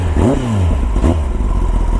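A Kawasaki Ninja ZX-10R engine gets two quick blips of the throttle up close, each rising in pitch and dropping back to a rough, loud idle.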